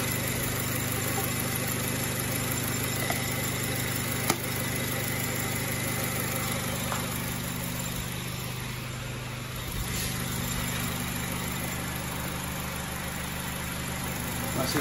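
A 2005 car engine idles at a low, even steady hum that runs throughout, with a couple of brief clicks along the way and no talking over it.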